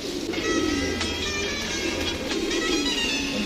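Racing pigeons cooing in a loft, several soft repeated coos over a constant low background rumble, close by and moderately loud.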